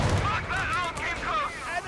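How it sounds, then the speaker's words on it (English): Artillery barrage landing in a Company of Heroes 3 match, heavy low rumbling booms rolling under a continuous battle din, with overlapping tonal whistles and game sounds throughout. "Captain's artillery coming down"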